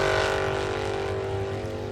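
Formula Offroad buggy known as the Viking, its engine holding a steady, loud, sustained drone with strong harmonic tones, heard close and alone at a World Cup event.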